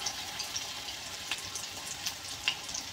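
Spinach pakoras frying in hot oil in a small wok, a steady soft sizzle with faint crackles and occasional sharper pops, fairly quiet and close, with no talking.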